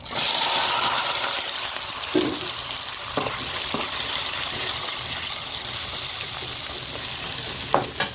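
Green chillies sauté in a hot pan for a spicy tamarind chilli dish, giving a steady, loud, close sizzle with a few sharper stirring knocks scattered throughout.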